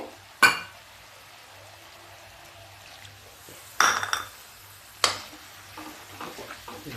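Ground cauliflower masala roasting in a pan after a splash of water, with a few sharp stirring scrapes and clatters of the utensil over a low, steady background.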